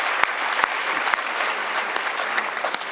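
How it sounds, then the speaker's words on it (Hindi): Sustained audience applause at a poetry gathering, a dense, steady wash of many hands clapping with a few sharper individual claps standing out, fairly loud and continuous throughout, with no speech heard. "एक बार ताली बजा दो।"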